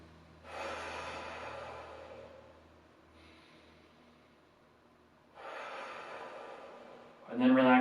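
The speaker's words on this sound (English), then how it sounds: "Two more big breaths" Deep, slow breaths are drawn in and let out during a hip stretch: two long breathy exhales several seconds apart, quiet and close, then a sharper sound at the end.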